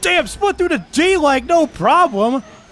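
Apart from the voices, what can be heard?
None of the usual background noises is heard.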